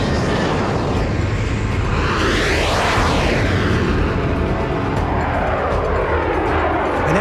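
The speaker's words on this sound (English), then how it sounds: "it was the first Vulcan starting" Loud, roaring jet engines of an Avro Vulcan bomber spool up on an airfield, a close, continuous blast with a sweeping rising-and-falling whine over a heavy low rumble.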